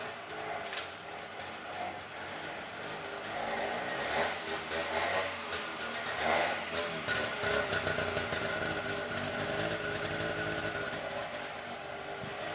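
A freshly rebuilt Daihatsu Fellow engine idles steadily with an exhaust leak, a continuous mechanical drone with ticking, ratchet-like pulses, fairly close and moderately loud, with no talk over it.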